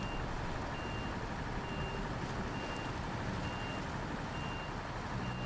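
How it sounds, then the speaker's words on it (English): A truck reversing in the SnowRunner driving game, its backup alarm beeping in a steady repeating rhythm, about a beep per second, over a low engine rumble, fairly quiet with no talk. "Man, it even sounds like a bus when it's backing up."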